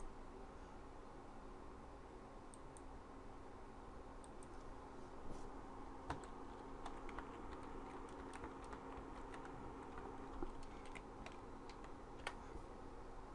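Someone types a file name on a computer keyboard, the quiet, irregular clicks of keys running steadily over a constant background hum with no talking.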